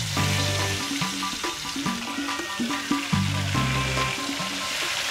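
Gourami fish frying in hot oil, a dense sizzling crackle with bubbling pops and some clattering, steady and close, with no talk.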